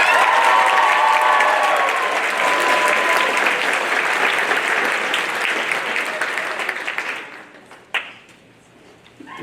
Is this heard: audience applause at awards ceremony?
yes